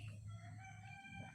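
Chickens crowing and clucking nearby on a goat farm, a rooster's harmonic call rising over a steady low background hum.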